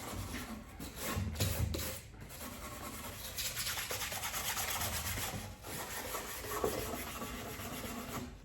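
Sandpaper rubs back and forth across the wood of a workbench being built, producing a soft, continuous scratchy friction in uneven strokes at moderate distance, with no voices.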